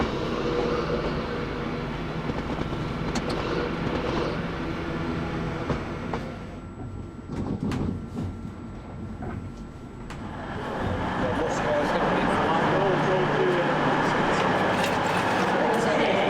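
Interior of a Pendolino train travelling into Manchester Piccadilly, a loud continuous rumble of wheels and motors that dips briefly, then swells again, with some speech-like sound in places.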